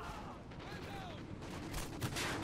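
Video game firefight during a 4v4 Domination match, faint rapid gunfire and distant bursts crackling continuously in the background, fairly quiet overall.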